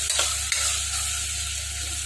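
Onions sizzle and fry steadily in a pan for a Telugu-style cluster beans and tomato curry, with a quick stir near the start and a constant crackling hiss close by.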